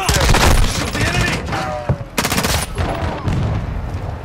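Rapid automatic gunfire and booming shots rattle through a Call of Duty: Modern Warfare II battle, loud dense bursts with brief pauses in between.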